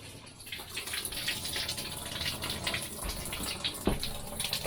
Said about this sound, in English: it's leaking all over the place over here